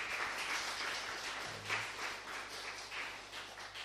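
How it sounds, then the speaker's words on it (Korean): A church congregation claps in welcome during a Sunday worship service, a steady wash of applause that stays fairly even throughout, with a brief low hum partway through. "우리 옆에 있는 분들 박수로 환영하겠습니다."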